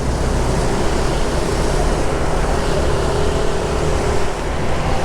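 Water sprays up from a passing vehicle's tires on a rain-soaked road in Surigao, heard from a Honda CRF 150 motorcycle as a steady, loud, broadband rush mixed with wind and engine rumble.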